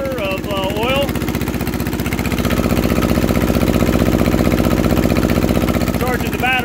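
An Onan 3.0 DJA diesel generator with no muffler runs unloaded, a loud, steady, rapid thudding chug close by, while a person talks over it at the start and end.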